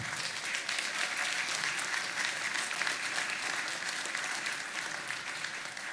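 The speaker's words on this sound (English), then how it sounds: "please give her a welcoming hand" An audience claps steadily for several seconds, welcoming a speaker at a sacred plant community conference, with dense, even applause filling the room and no voices above it.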